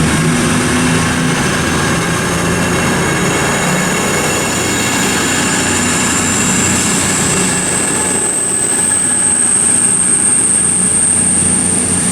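CrossCountry unit 221125 stands at Chesterfield station on the Edinburgh to Birmingham New Street service, giving off a loud, steady rumble with a thin whine that rises and holds through the latter half.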